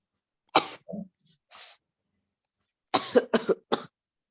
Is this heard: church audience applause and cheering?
no